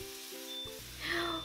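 Beef and scallions stir-frying in an iron wok give a steady, soft sizzle. A low hum and faint steady tones sit underneath, and the sizzle grows slightly brighter near the end.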